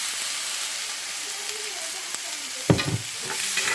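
Chicken and kale sizzle in a frying pan while being stirred, a soft close hiss with a few scrapes and a brief louder clatter of stirring near the end, no voices.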